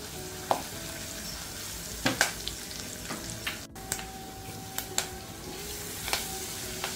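Curry leaves, ten to twelve of them, sizzle in hot oil in a pan with garlic fried golden, making a steady frying crackle with a few sharp spatters and stirring clinks, no talking.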